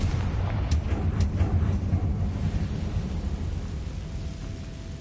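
A deep rumbling blast from the Confringo spell in the Hogwarts Legacy video game, with a few sharp cracks early on, then a low roar that fades slowly.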